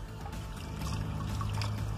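Clean, unchlorinated spring water pours and splashes outdoors, a steady, faint, broadband rush with a low gurgling undertone and no talking.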